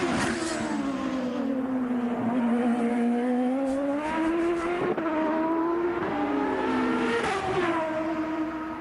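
Champ Car race car engines at speed during the 2004 Denver race, a continuous loud whine rising and falling in pitch as the cars accelerate and shift, without audible talk.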